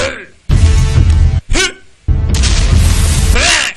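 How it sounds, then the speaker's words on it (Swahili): Deep, booming explosion effects from a dubbed movie come in two heavy bursts that each hold for about a second, broken by short gaps, with a voice over the top. "Mara akasikia mlipuko huko."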